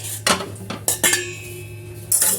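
Dishes and cutlery being washed by hand at a kitchen sink: a few sharp clinks and clatters of plates and utensils knocked together, close and distinct, with running water faintly behind.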